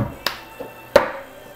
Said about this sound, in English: So clap, clap, tap, tap, tap, clap, move to the side.